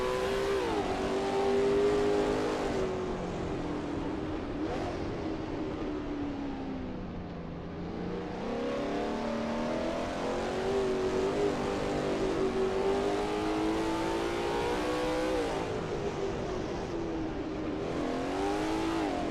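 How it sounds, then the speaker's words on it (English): A Lola T70 MkII Spyder race car engine howls around Bathurst in a racing video game, loud and steady, rising and falling through gear changes and corners over a long continuous stretch. "Simon of the Desert is expertly commanding that car through Quarry Bend"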